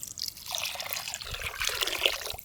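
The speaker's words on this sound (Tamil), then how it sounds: "சூப்புக்கு தேவையான அளவு தண்ணி" Water pours steadily into a pot of banana stem soup with garam masala, a continuous trickling splash lasting a couple of seconds, close and fairly quiet, with no voices.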